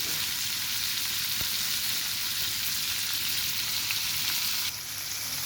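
Giant freshwater prawns fry in mustard oil with a constant, loud, crackling sizzle up close. Near the end the hiss briefly shifts and eases slightly.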